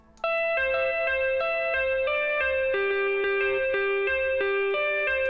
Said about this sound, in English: I'm gonna show you how to take this guitar melody